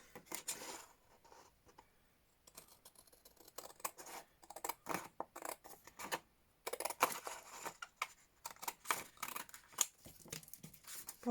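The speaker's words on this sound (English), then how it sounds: "I'm just going to trim this using scissors right up to the edge." Repeated crisp scissor snips and rustling while trimming laminated paper bookmarks, close and quiet, in irregular bursts with brief pauses between cuts.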